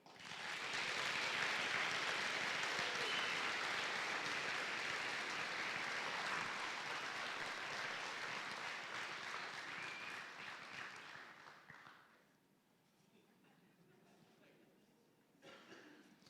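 Sustained audience applause at the 2024 Cheshire Career Center awards night, a dense steady clapping that runs loud for about twelve seconds, then drops to a quieter room murmur with a brief swell near the end.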